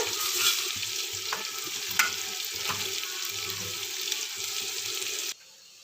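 Tomato pieces with salt sizzle in a frying pan under steady stirring and scraping, a busy, continuous frying crackle that stops abruptly near the end.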